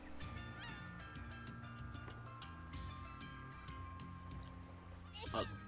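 Cartoon birds honking in the Worms Revolution video game, a run of repeated nasal honks over steady game music, with players talking excitedly at times.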